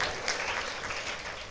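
College students in the audience at a Tamil televised debate-style speech event applaud, a dense, steady clapping that fills the hall for the whole stretch without any talk over it.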